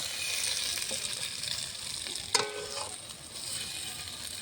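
Potatoes and spices frying in a pan give a steady, close sizzle, broken by a brief stir or clink of the utensil partway through, with no talk.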